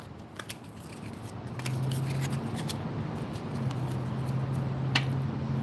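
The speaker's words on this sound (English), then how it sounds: "I'm going to be shuffling right now for you." Tarot cards shuffle by hand in a steady, soft papery riffle and slide, close and quiet, with occasional light taps and a low constant hum beneath.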